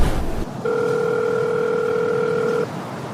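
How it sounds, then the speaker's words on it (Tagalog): A telephone dial tone sounds while a call is being placed, a steady, clear electronic tone holding for about two seconds after a short noisy start, with no voices. "Tawagan nga lang sila Luke"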